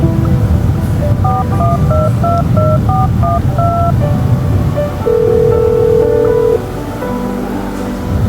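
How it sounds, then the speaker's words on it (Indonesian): A rapid series of telephone keypad tones beeps out in quick succession, then a long steady tone, with a dull rushing background underneath. "Aku telepon Ahmad aja deh."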